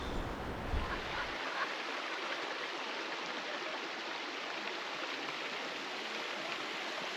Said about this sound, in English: the Bronte Waterfall, which is more of a trickling stream, maybe due to the dry summer